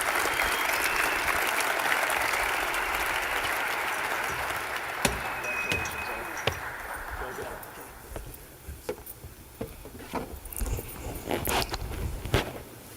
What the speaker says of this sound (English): Please, nice round of applause for Ed Wright.